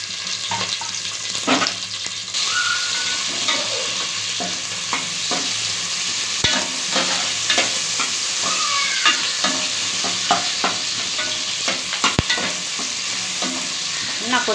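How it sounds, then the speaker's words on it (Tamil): Onions fry in hot oil for a mutton biryani, giving a loud, steady sizzle throughout, with occasional sharp scrapes and clacks from stirring, close up and without talk. "இப்போ நம்ம வெங்காயத்தை போட்டுக்கலாம்."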